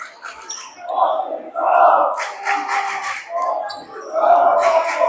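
A home crowd at a Wissahickon high school boys' varsity basketball game roars and shouts in loud, close swells, with an announcer's voice running over the noise.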